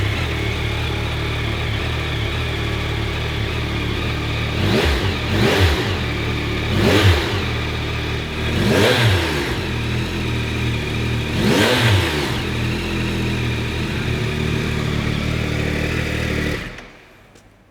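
A 2025 Yamaha R9 sportsbike engine idles loudly and close, then blips its throttle in four or five sharp revs before the engine shuts off.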